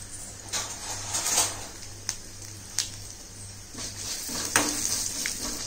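Pepper and fennel seeds sauté in a pan for a chickpea curry, giving a faint, light sizzle broken by scattered spatula taps and small clinks against the pan.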